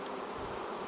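A dense, steady drone of honeybees from an open hive, drones among them, fills the moment close up with a continuous buzz and no voices.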